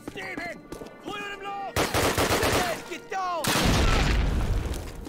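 In the 2003 Call of Duty game, set in Poland, a grenade goes off with a heavy, booming blast that lingers, following bursts of gunfire and tonal game effects, with someone talking at the start.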